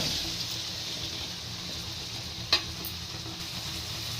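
Tomatoes fry in oil with chili powder for tomato rice, a faint, even sizzle with a single sharp utensil clink midway.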